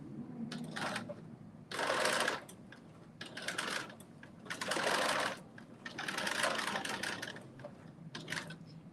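A home sewing machine runs in repeated bursts of rapid mechanical stitching while sewing past a seam on a Simplicity 9825 sewing project, with short pauses between each run.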